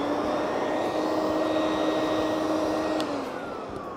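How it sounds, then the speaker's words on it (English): A vacuum cleaner fan runs loud and close, a steady whooshing roar with a high whine that holds evenly before easing off slightly at the end. "In the case of a vacuum, you've got a fan inside, which blows outward."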